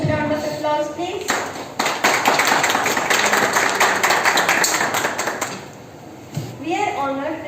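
A crowd at an event for participants, winners and judges bursts into loud, dense applause, framed by a speaker's voice at the start and end.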